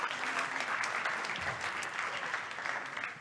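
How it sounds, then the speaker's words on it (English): A seated audience claps steadily at a climate-neutral smart cities mission kick-off event, a dense, even round of applause that lasts about three seconds. "please give up one more applause to the three of you"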